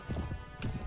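A horse's hooves clip-clop in a medieval battle video game, several quick muffled thuds within a second, ending in a sudden louder hit.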